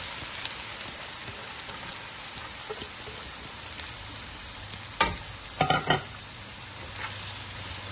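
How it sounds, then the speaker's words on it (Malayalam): Chopped green chili, ginger, garlic, onion and curry leaves sauté in a pan for mushroom masala, a constant close crackling sizzle like light rain with a few sharp clustered scrapes of the stirring spoon. "ഇനിയും ഇതിലേക്ക് അരിഞ്ഞു വെച്ചിരിക്കുന്ന പച്ചമുളക്, ഇഞ്ചി, വെളുത്തുള്ളി, ഉള്ളി, കറിവേപ്പില ഇതെല്ലാം കൂടെ ഇട്ട് ഒന്ന് നന്നായി വഴറ്റിയെടുക്കാം."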